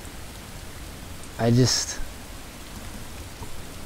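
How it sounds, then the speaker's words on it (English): Steady rain hisses as a soft, continuous wash of noise in Fallout 4 VR, while someone briefly speaks over it. "I can just pop a seat here and just wait for the rain to go away."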